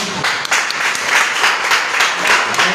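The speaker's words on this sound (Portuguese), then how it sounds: "Aplauda o Senhor" A church congregation applauds together, a dense, steady wash of clapping that stays loud and close throughout with no voices standing out.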